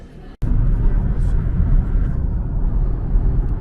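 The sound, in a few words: airplane flying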